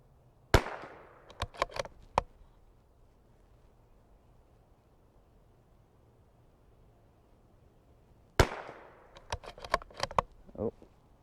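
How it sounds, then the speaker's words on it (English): Two sharp, loud cracks from a .22LR CZ 457 precision rifle fired at targets on a range, each followed by a quick cluster of fainter ticks and taps, with a long quiet gap between them and no talking. "let's go to the last target on the row for the rifle match."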